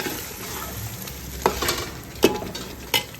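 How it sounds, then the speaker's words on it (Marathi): Cooked chicken being stir-fried in a spice masala, a steady sizzle broken by several sharp scraping clatters of a spoon against the pan, close and without talk. "मसाला चांगला लागू तोपर्यंत आपण त्याला चांगले मसाल्यामध्ये परतून घेऊ"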